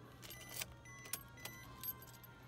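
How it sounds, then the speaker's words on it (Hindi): Silver Maruti Wagon R VXi being switched on: a few short metallic key jingles and clicks around the ignition, quiet and close, over a faint low background hum. "सबसे पहले गाड़ी को ऑन कर लेते हैं"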